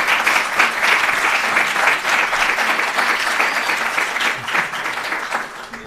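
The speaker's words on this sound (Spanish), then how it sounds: "Les pediría otro aplauso para Cristian y cerramos." A roomful of people applauds for Cristian at the close of a talk on ethics in artificial intelligence, steady dense clapping that holds evenly throughout with no voices on top.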